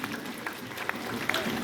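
An audience at a spiritual gathering in an ashram in Rishikesh applauds, a dense steady patter of clapping at moderate level with a voice faintly mixed in.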